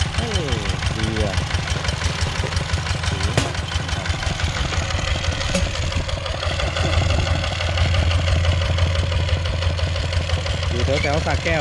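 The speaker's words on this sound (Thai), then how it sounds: "รถไถเดินตามเครื่องยนต์ดีเซลครับ" A diesel walk-behind tractor engine pulling a two-row corn seed and fertilizer planter runs steadily with a rapid, throbbing chug, growing slightly louder partway through, while someone talks over it.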